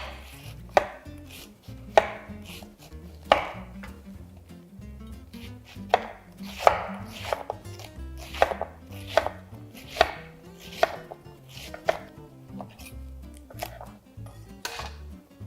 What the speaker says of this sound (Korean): 양배추도 슬라이스 해볼게요.